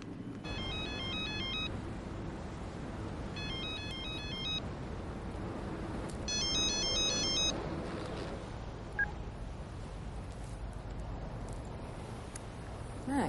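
A mobile phone plays a repeating electronic ringtone in three short bursts, fairly faint over a low background hum, then the ringing stops.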